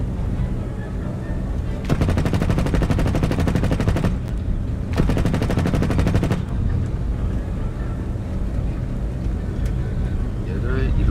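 Rapid automatic gunfire bursts from a vehicle in War Thunder, two long loud rattling volleys over a constant engine rumble, with someone talking over the action.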